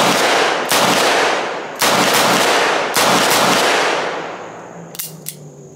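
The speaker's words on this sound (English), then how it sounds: "Okay, we're gonna do 7 more shots at 357 Magnum." An S&W 586 L-Comp Performance Center revolver fires .357 Magnum rounds outdoors: four loud, close blasts about a second apart, each with a long ringing decay, followed by a couple of small metallic clicks.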